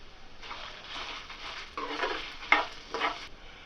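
Dried red chillies and cumin seeds fry in a pan for a radish chutney, with soft sizzling and a series of close spatula stirring scrapes, a few sharper clinks near the end.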